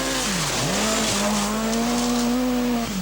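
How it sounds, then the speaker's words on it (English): Toyota Celica Turbo works rally car on a special stage, engine close and loud, pitch sweeping up and dropping through several quick gear changes and lifts across a few seconds, no talk. "First through is Björn Waldegard with his Works Toyota Celica Turbo."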